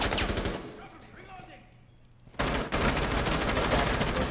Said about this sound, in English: Pre-firing through loads of walls, you never know what you're going to get